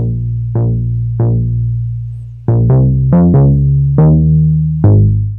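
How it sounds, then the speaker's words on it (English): A synthesizer plays a slow line of separate notes, each attacking sharply and fading, with a gritty, crunchy overdriven tone. "it's just kind of distorting the sound a bit, making it a bit crunchier"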